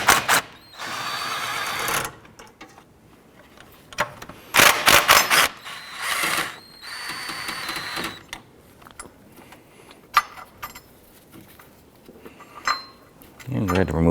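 Ratcheting and clinking tools work two 14mm bolts loose on a 2009-2015 Honda Pilot engine mount, in several loud bursts of ratchet clicks separated by quieter metal handling and brief pauses.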